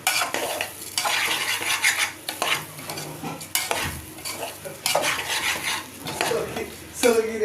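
Pulao rice stirred and fried in a pot, with a spoon scraping the metal in repeated strokes and a steady sizzle beneath, loud and close, with clinks of utensil against the pan.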